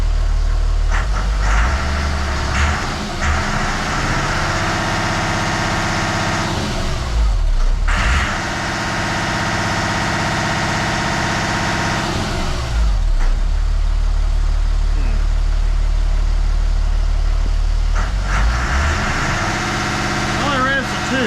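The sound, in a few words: Perkins 6.354 diesel engine running and revving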